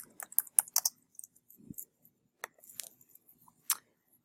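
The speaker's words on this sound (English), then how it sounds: "if you type in Captain America" Short, uneven bursts of typing on a computer keyboard, crisp clicks in quick clusters separated by brief pauses, close and fairly quiet.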